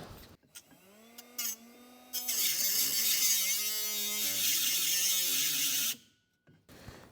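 A handheld power tool cutting out a seized bolt on a Cushman Trackster suspension, whirring in short bursts that rise and fall in pitch, then running in one long, harsh, grinding stretch before cutting off.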